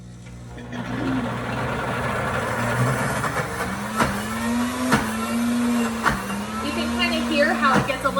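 A Deluxe Cooking Blender grinds thick hummus with a steady, close motor hum that shifts slightly in pitch as it labors, broken by a few sharp knocks along the way.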